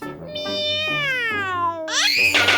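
A cartoon cat meows in a children's animal e-book, a few drawn-out, tonal cries rising and falling, loud and close, ending in a brighter, harsher call.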